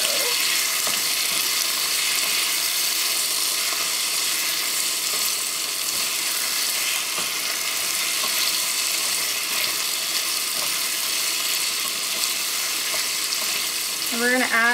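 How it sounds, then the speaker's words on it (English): Ground beef with barbecue sauce frying in a pan while being stirred, a steady, loud broadband sizzle filling the whole stretch with faint scraping underneath. "Now I'm just going to mix that barbecue sauce in the beef."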